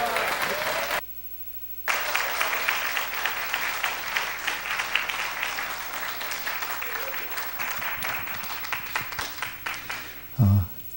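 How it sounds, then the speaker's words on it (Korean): A church congregation breaks into loud, sustained clapping and cheering to welcome a pastor, dense applause of many hands that gradually thins into separate claps before a brief louder thump at the end. "큰 박수 함성으로 환영하시겠습니다"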